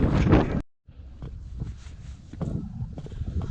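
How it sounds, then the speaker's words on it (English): Wind blowing across the exposed Moel Siabod mountain ridge, a steady broadband rush buffeting the microphone, briefly dropping out before gusting back and building toward the end. "You can hear the wind."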